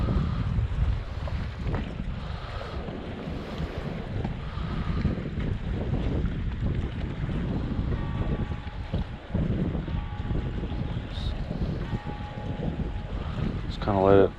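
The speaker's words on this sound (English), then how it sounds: "Wind's pushing in on this area." Wind blows steadily along the Lake Como shore, buffeting the microphone with a low, constant roar that also carries faint water and boat-like rumble, with someone speaking at times underneath.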